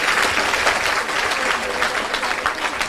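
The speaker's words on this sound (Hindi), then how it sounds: "तो ताली बजाइए फिर इनके लिए।" An audience claps loudly and continuously at an indoor gathering for three seconds, with no voices over the applause.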